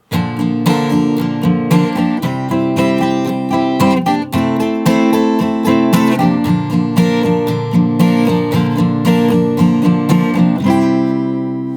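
Strummed guitar plays the bridge, changing chords every bar with a steady driving rhythm, near and bright, ending on a ringing chord.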